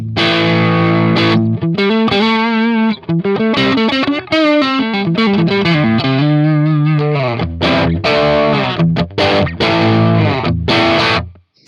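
Crunchy distorted bass amp capture tone, using a Plexi amp model, playing a continuous melodic line with slides and sustained notes, then faster choppy notes toward the end.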